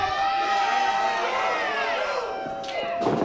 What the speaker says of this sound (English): Crowd wants more.